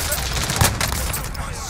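MP7 submachine gun fire in a shooter video game, a short cluster of rapid cracking shots with one sharper burst, heard under excited talk from a player.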